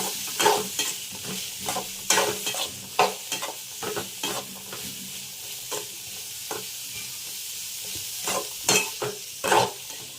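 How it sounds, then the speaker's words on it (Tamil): Carrots and beans are stir-fried in a pan, a steady sizzle running under repeated scraping strokes of a spoon against the pan in a loose rhythm, close and clear with no talking. "கேரட் பீன்ஸ் நல்லா வதங்கணும்."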